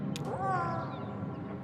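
A cat meows once in the Kentucky Route Zero video game, a clear, drawn-out rising and falling cry heard alone over soft background ambience.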